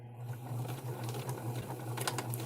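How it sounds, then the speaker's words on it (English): A sewing machine runs along the edge of a recreated 1940s apron, a continuous low motor hum with fast needle ticking, close and steady throughout. "It really makes sewing along an edge nice and straight so easy."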